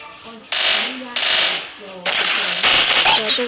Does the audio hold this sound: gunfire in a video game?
yes